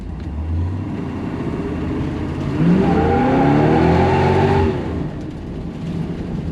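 A 1970 Chevrolet Nova SS396 with the L78 engine launches down a prepped drag strip, its V8 roaring and rising in pitch through the run, loud and steady before easing off.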